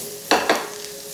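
Capsicum with Kashmiri chilli powder and pepper powder is stirred in a pan for capsicum egg podimas: two quick, close scraping sweeps over a low, steady background hum.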